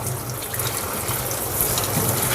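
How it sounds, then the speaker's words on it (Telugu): Tap water runs in a steady, close gush while pieces of peeled shark meat are rinsed in a kitchen sink, with no voices. "కొంచెం రన్నింగ్ వాటర్ కింద నీట్గా కడిగేసుకొని పక్కకు పెట్టండి"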